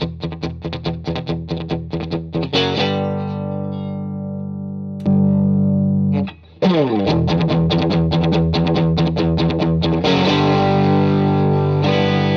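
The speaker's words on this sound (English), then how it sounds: "I'll start playing just the guitar straight into the amp" A clean electric guitar played straight into the amp, strummed and picked with no effects, rhythmic chords and sustained ringing notes with a brief pause midway, no talking.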